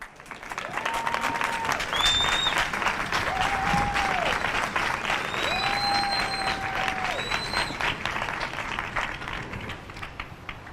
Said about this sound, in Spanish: Démosle un fuerte aplauso a ellas.